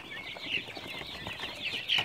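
A brood of ten-day-old quail chicks peeping constantly in a dense, high-pitched chorus of overlapping chirps, soft and close, with no voices.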